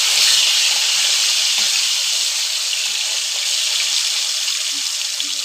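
Potatoes frying in a pan on a gas stove, a loud, continuous, even hiss and sizzle with a few faint clinks, close up and with no talking.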